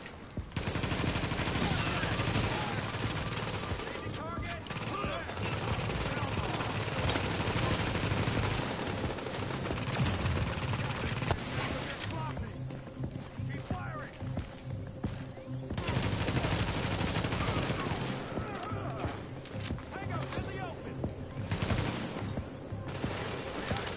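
Sustained, dense gunfire in the Destiny video game as a turret is shot down, with continuous rapid bursts and brief lulls around the middle.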